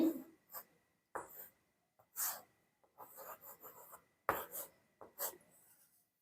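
Writing on a board during a lesson: a series of close, scratchy strokes in short bursts with brief pauses between, fairly faint.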